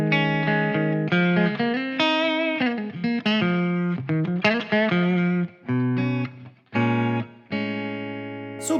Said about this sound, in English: This is the clean channel without anything, just a delay and a reverb from Pro Tools